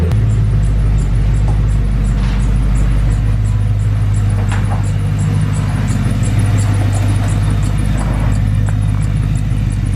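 A car engine idles while warming up, a loud, steady, close low rumble that holds unbroken throughout.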